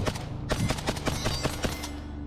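Arsenal SLR 107R AK rifle firing 7.62x39 rounds through a muzzle brake, a rapid string of about ten loud, close shots with a booming, reverberant tail.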